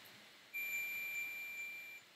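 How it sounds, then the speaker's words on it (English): Multimeter continuity beep as the probes touch together: a single steady high electronic tone lasting about a second and a half, clean and alone. "I'm just going to touch them together. And you'll hear a beep."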